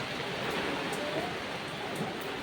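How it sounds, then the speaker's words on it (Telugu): Heavy rain pours down steadily, a dense, constant hiss with no gaps and no voices. "మామూలు వర్షం కాదు పెద్ద చాలా పెద్ద వర్షం పడుతుంది"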